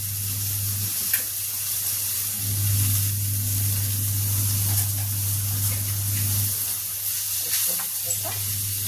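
Bottle gourd fries in a spoonful of hot oil, a continuous close hissing sizzle over a steady low hum, with faint stirring noises now and then.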